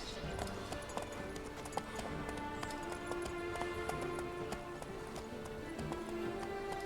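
Horse hooves galloping in The Witcher 3 video game, a rapid steady clip-clop rhythm running continuously at moderate volume under faint background game sounds, with talk present.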